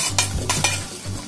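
Chopped onion going into two tablespoons of hot oil in a pressure cooker on a gas stove, with a few short stirring scrapes and a low steady sizzle close by, no voices.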